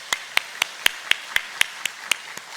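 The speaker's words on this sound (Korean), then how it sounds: "하나님께 박수로 영광 드리겠습니다." A church congregation during a Sunday morning service claps in a brisk, even rhythm: about ten sharp, loud claps evenly spaced across two and a half seconds, with no voices.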